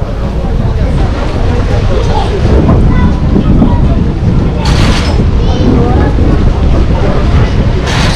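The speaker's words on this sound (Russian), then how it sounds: "Сильный ветер со стороны Туапсе" Strong wind blowing off the sea near Tuapse roars steadily and loudly across the microphone on a beach at Lazarevskoye ahead of a downpour, with waves and rumbling gusts throughout and no talk.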